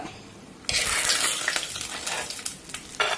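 Dried green gram vadiyalu fry in hot oil, a bright, steady sizzle that bursts in loudly and keeps crackling close by, with a few stirring scrapes and a fresh surge near the end.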